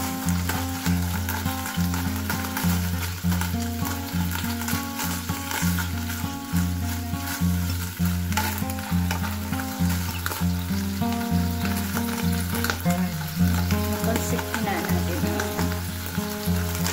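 Food sizzles and fries in a pan for cheesy tuna nachos, a constant loud crackle running the whole time, with a rhythmic low hum or music pulsing underneath.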